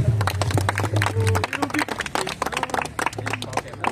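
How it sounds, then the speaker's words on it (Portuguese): A crowd claps at an outdoor rap battle, with loud, uneven hand claps and cheering mixed with voices and a low hum, fairly close and busy throughout. "Palmas, palmas."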